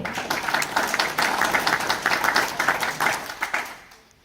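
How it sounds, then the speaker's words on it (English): Applause for the 1986 football team at a university Hall of Fame ceremony, steady moderate clapping from an audience that fades out at the end. "Wants to give them a round of applause as well."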